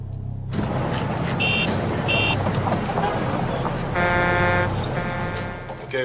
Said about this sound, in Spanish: Ahora el ruido de tráfico para compararlo.